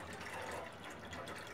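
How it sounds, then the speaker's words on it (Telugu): Water poured from a cup into a pot of milk heating on the stove for cooking oats, a steady close liquid gush and splash lasting a moment with no talk. "1 కప్లోనే కొద్దిగా వాటర్ యాడ్ చేసుకొని దీనిలోకి యాడ్ చేశాను"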